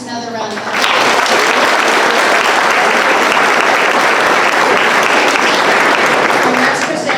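Audience at a Dunnellon Middle School 8th-grade academic awards ceremony breaks into loud, sustained applause that swells within the first second and holds steady as dense clapping until the end, with a voice briefly audible at the start.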